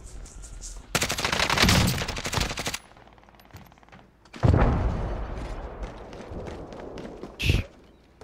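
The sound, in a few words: gunfire in a video game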